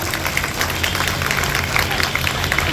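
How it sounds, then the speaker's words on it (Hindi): A crowd at a Delhi Police foundation event welcomes an ACP guest with continuous applause, a dense wash of many clapping hands heard throughout. "जोरदार तालियों से उनका स्वागत"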